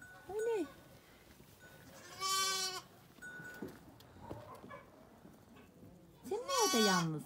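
Young lambs bleat on a village farm, several loud, wavering cries coming close with quieter pauses between them, while a person talks over the scene.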